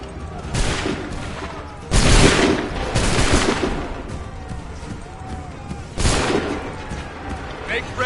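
A volley of blaster gunfire in the Star Wars Outlaws video game: loud, dense bursts of rapid shots that surge three times amid continuous battle noise.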